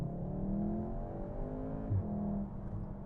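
A Volkswagen Golf R pulling away from a parking lay-by, its exhaust note rising through a couple of gear-like swells, heard from inside the car, close and steady with no talk.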